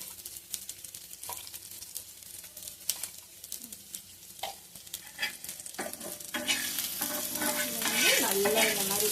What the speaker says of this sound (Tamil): அப்படியே தேய்ச்சி விட்டு அப்படியே வதக்கிட்டே